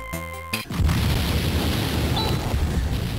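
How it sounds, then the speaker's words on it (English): A loud, booming explosion from the video game Phantasy Star IV erupts after a short melodic chime, leaving a sustained rumbling roar to the end. "An explosion!"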